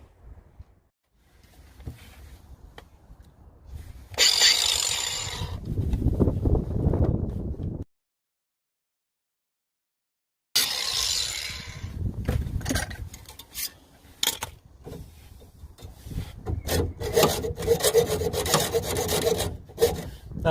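A stainless steel bolt being cut by hand with a hacksaw, close rasping strokes in two bursts separated by a few seconds of silence, with no talking.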